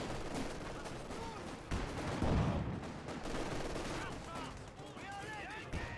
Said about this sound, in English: You see they're firing away there.